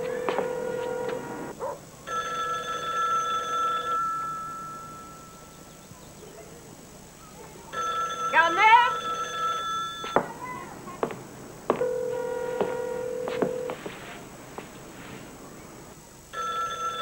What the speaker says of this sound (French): Le téléphone sonne depuis des heures.